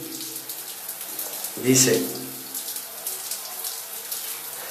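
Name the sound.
warm water running from tap during bath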